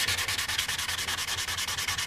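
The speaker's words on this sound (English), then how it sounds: "But then when you do this sanding" Primer being hand-sanded on a Yamaha FZR motorcycle part during restoration: steady, rhythmic back-and-forth rasping strokes, close and fairly loud, with no talking.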